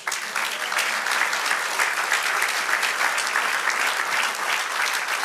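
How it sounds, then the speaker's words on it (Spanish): A church congregation claps together in sustained, dense applause during a Spanish-language sermon, the sound even and full from start to finish. "Denle un aplauso al Señor."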